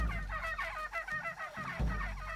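Turkeys gobble repeatedly in the video game Shadow of the Tomb Raider, a rapid, rattling burst of gobbles with low rumbling behind it.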